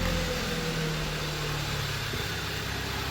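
A BMW 530e petrol-electric engine idles, a steady, even hum running without a break, with no voices.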